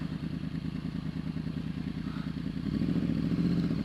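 A 2009 Yamaha R1 sport bike runs while being ridden, its engine a steady rumbling drone with clattering mechanical noise, rising slightly in loudness toward the end, with no voices.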